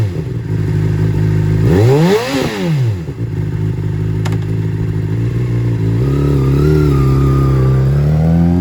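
Used 2008 Honda CBR600RR supersport motorcycle engine, loud and close, idling steadily with a quick rev that rises and falls, then settles back to a rough idle.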